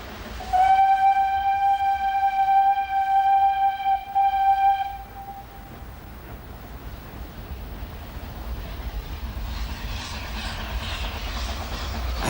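On the Talyllyn Railway, a narrow-gauge steam train crosses a high viaduct into Dolgoch station in the Welsh mountains, sounding one long, steady whistle blast for several seconds, then a quieter low rumble of the moving train.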